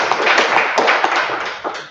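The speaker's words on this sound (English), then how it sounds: "Let's clap for Jesus in this place." An audience at a church gathering claps together, a dense burst of hand claps with a few sharper individual taps standing out, fairly close, lasting about two seconds.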